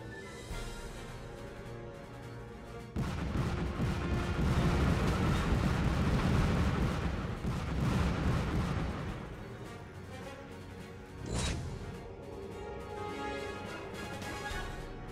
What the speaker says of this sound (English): Exploding enemy ships always make me smile.